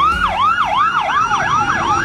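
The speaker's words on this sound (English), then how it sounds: "Sirens," Wailing emergency-vehicle siren sweeping up and down in rapid repeated cycles, loud and close, with a second siren layered in, no voices.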